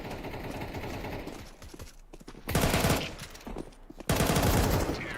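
Counter-Strike SMG fire in rapid automatic bursts, two loud sustained sprays separated by a brief lull, over a busy background of game noise.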